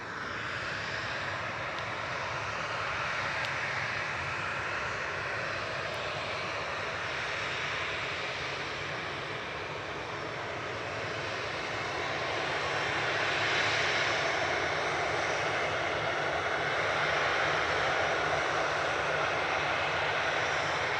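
A Ryanair jet at Manchester Airport gives a steady, loud engine roar that swells slightly as it goes on. The roar holds for the whole stretch with no voices.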